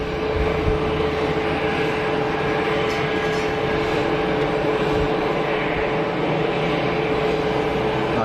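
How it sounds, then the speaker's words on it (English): An airliner at Geneva Airport lands and applies thrust reversers, giving a loud, steady, broadband engine roar that holds evenly throughout. "Bit of reverser action."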